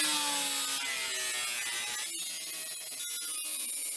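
Metal flaps are being trimmed around an air conditioner hole cut in the roof of a Dodge Ram van. The close, steady rasping and cutting has a harsh, bright edge, and the pitch shifts as the cut goes on.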